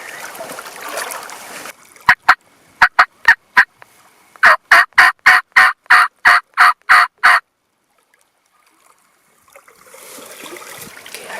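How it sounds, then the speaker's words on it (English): Merriam's wild turkeys gobble in a loud rapid series of bursts during a Colorado spring hunt, preceded by a few sharp separate calls, heard outdoors in quiet surroundings. "Now I got the gobblers all fired up. They won't shut up."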